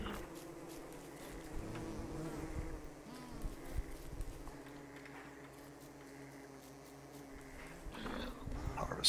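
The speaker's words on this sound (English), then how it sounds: "He's kiting those bees right now." Bees buzzing in Don't Starve Together while being kited, a wavering insect drone that rises and falls in and out over continuous game ambience, with some scattered clicks and no speech.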